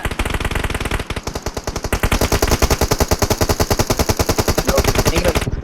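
Automatic gunfire in the PUBG Mobile battle game: loud, rapid, evenly spaced shots in long sustained bursts, with a brief pause before the firing resumes.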